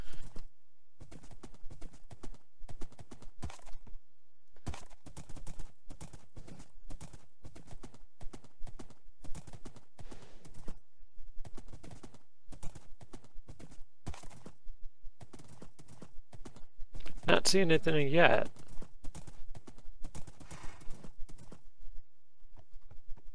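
Hooves clip-clop steadily from a horse in the game Minecraft, with a short loud whinny near the end, all under intermittent speech.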